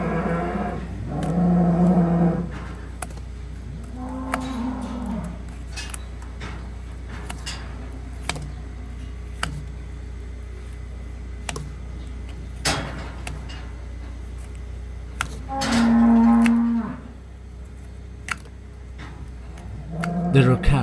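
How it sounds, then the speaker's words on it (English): Cows low several times in the background around a barn hoof-trimming crush, with some moos moderately close and others fainter, amid scattered clicks and clatter. "There are cows all around us right now, which is what you can hear in the background"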